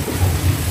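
Heavy rain falls with low thunder rumbling underneath, a loud, close, steady wash of sound over a brief moment.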